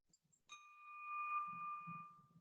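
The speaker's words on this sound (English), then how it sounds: "Ring the bell." A single bell is struck once at a meeting, giving a clear bright ring that sustains and slowly fades, with faint murmuring underneath.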